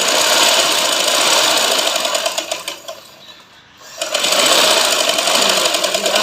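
Sewing machine stitching elastic into a ladies' lehenga, a loud steady whirring run that briefly slows and dips in the middle before picking back up, close by.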